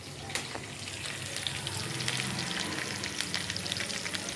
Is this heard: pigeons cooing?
no